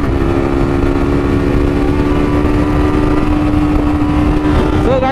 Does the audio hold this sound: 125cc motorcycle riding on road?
yes